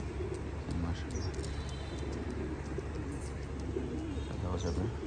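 Pakistani high flyer pigeons coo in a steady low murmur throughout, with scattered chirps on top and faint talk in the background.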